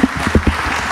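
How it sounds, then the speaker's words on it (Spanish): Audience at an evening talk in Miraflores claps in a short, loud burst of applause, close and dense, with no voices over it. "La recibimos con un fuerte aplauso."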